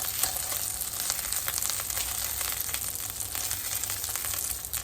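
Flattened meatball patties frying in a pan give a loud, continuous close-up sizzle with dense crackling spatter and no one talking.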